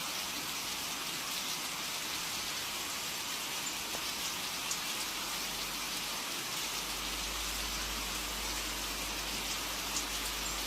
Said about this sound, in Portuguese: Puxa as cortinas, né, que tá chovendo.